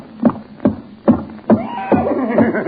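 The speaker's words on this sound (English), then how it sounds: "Good heavens, there is a horse in the kitchen." A horse clops along with steady hoofbeats, then breaks into a long, wavering neigh near the end, loud and close.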